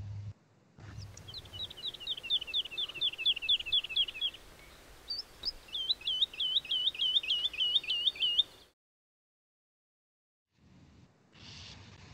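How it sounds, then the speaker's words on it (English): Two bursts of liquid, descending woodlark song, each a quick run of repeated fluting notes, clear against a quiet background, followed by silence. "It's the song of a woodlark."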